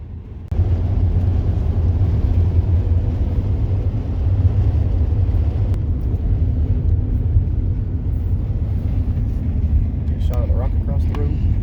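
A conversion van rolls down the road on a trip to Cedar Bluff, its low, steady rumble of engine and tire noise filling the cabin from start to finish, with a short bit of voice near the end.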